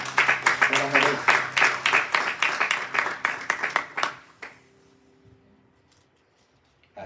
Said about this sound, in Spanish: Démosle un aplauso al Señor grande